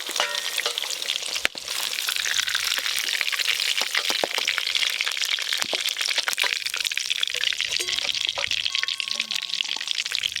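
Luchi frying in hot oil make a loud, close, continuous bubbling sizzle, dense with sharp crackles and pops.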